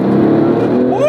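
A 2008 Porsche 911 GT2 of the 997 generation revs up under hard throttle above 3,000 RPM, a loud, steady engine drone whose pitch begins climbing near the end, heard close from inside the car.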